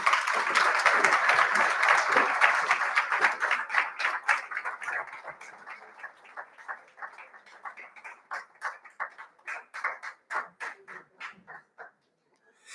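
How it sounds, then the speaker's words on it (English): An audience at a conference afternoon session applauds, a dense burst of clapping that thins over several seconds into scattered individual claps before stopping. "A round of applause as they take their seat."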